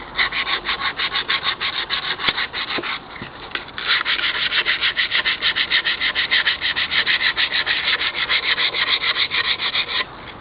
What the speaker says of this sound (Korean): 굵은 사포로 문질러 주세요